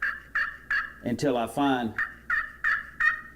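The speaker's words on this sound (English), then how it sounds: "This is, to me, sounds the most realistic for a turkey yelp" Turkey yelps played on a slate turkey call, a series of short sharp clucking notes in steady rhythm, close and clear, with someone briefly talking partway through.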